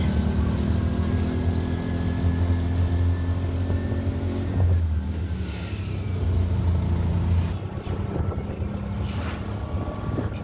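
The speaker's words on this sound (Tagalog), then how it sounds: "Ayan, sakay tayo ng tricycle." An open tricycle rides around Tagaytay City, its motor droning steadily under heavy wind buffeting, with the engine note shifting partway through the ride.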